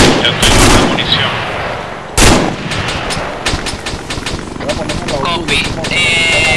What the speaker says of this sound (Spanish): fuego de respuesta, repito, fuego de respuesta